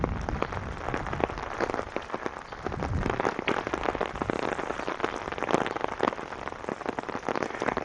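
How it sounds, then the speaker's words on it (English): Steady rain patters on an umbrella overhead during a neighborhood walk in Vancouver, with dense close drops tapping continuously and no voices. "it's supposed to rain all day, so well, this isn't too bad under the umbrella"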